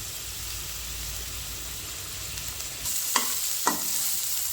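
Onions fry with salt in a pan, a steady close hiss of sizzling oil, followed by two brief scraping stirs toward the end.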